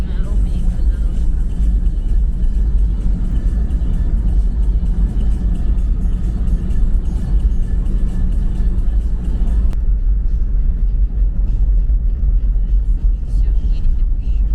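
A car drives along a smooth, well-packed road on a trip around the Rybinsk Reservoir, with a loud, steady low rumble from inside the cabin that stays constant throughout.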